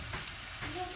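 Onions frying in a pan with ginger paste for chicken vegetable rolls give off a steady, dense sizzle close by, with no break.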